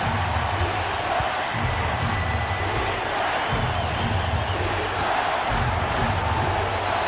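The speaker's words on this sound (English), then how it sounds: "And the crowd now is in a frenzy." A roaring crowd in a basketball video game erupts after a three-pointer, with dense, continuous cheering and a few thuds of ball bounces underneath.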